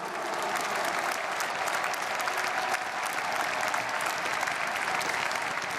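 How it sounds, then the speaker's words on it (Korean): Sustained applause from a congregation at a joint prayer meeting for the nation, its people and peace, a steady dense clapping that holds evenly for the whole stretch, with faint crowd murmur beneath. "오늘 순서 맡은 모든 분들에게 뜨거운 박수로 한번 격려해 주셨으면 감사하겠습니다"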